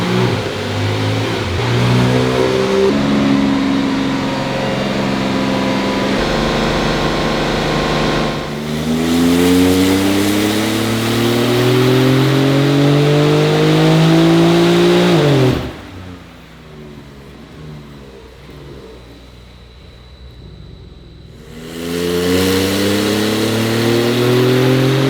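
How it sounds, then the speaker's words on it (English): A Porsche 911 Turbo S engine on a dyno in 5th gear roars loudly and close, climbing steadily in pitch through long pulls, cutting briefly to a low idle, then revving up again. "we're gonna enter 5th gear and we're gonna line it up to 3000 RPM on the dyno"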